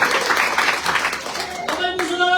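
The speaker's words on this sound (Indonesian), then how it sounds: "berikan tepuk tangan" A church congregation claps together in a brief burst of many hands, the patter dense and roomy, fading as a voice carries on.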